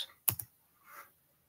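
Two quick keystrokes on a computer keyboard, a sharp double click close up, followed by a faint brief rustle in an otherwise quiet room.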